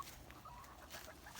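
Backyard hens cluck in soft, scattered calls over faint background noise, quiet and somewhat distant.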